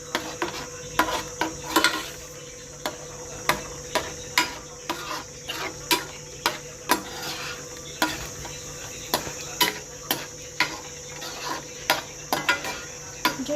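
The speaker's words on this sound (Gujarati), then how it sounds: "હવે આને મસ્તીનું આપણે હલાવી નાખીશું." Paneer sabji with fresh coriander being stirred in a pan, a spoon scraping and clinking against the metal in steady repeated strokes over a low, constant hiss.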